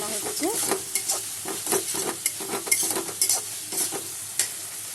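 Spice paste with tomato and a little salt is stir-fried in a pan, a soft sizzle under repeated sharp scraping strokes of a spatula in an uneven rhythm.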